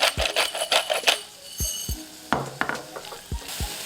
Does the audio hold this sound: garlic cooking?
yes